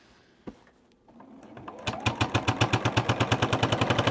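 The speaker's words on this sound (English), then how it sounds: "I never thought I would be a two sewing machine person." A sewing machine stitches a quilted zipper pouch, starting after a couple of faint clicks and then running in a steady, fast, even rhythm of mechanical thumps that builds slightly in loudness.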